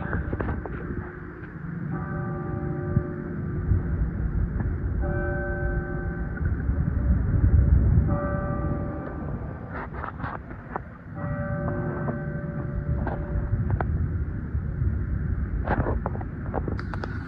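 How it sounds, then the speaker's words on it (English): A train passes through downtown White Plains, New York, near the Westchester courthouse, a steady rumbling roar with repeated horn-like tonal blasts rising over the street noise, moderately loud and without talk. "You may hear a train."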